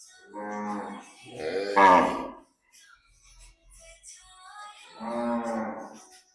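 Cows mooing at a panjrapole cattle shelter in Dehgam taluka, Gujarat: two long, close, loud moos in quick succession, then a quiet pause and a third drawn-out moo.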